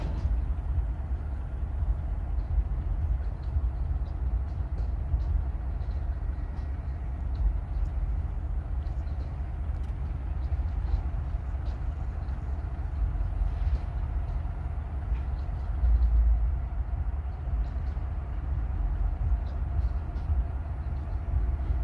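FEC LNG freight locomotives cross a bridge in St. Augustine, Florida, producing a steady, heavy low rumble that continues evenly throughout, with faint rattling and no clear horn.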